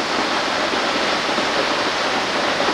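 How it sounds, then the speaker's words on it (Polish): Steady, roaring rush of a waterfall near Half Dome pounding onto rocks, a dense continuous hiss like a jet taking off, with no talking. "ten wodospad, ta woda obijająca się o te skały brzmi jak startujący samolot"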